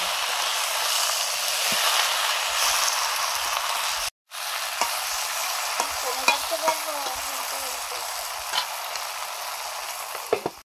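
Thin, hot green chillies sizzle and crackle in a kadai as they are stirred, a steady loud frying hiss with scraping strokes and a brief break partway through.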